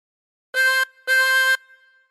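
Chromatic harmonica, two blown notes on hole 5: a short tone then a longer one, clear, close and bright, with a soft fading tail and silence around them.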